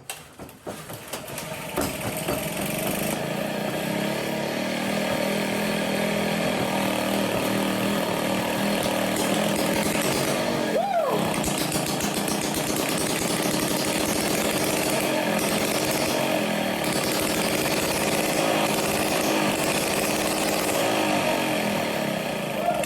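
A Motobecane moped engine with its exhaust removed fires up and runs on steadily, a loud, close, raw buzzing drone with a brief dip and sweep partway through before settling back into a continuous rasp.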